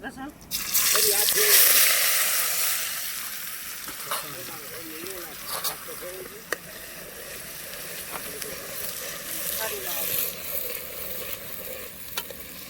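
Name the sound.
onion sizzling in hot oil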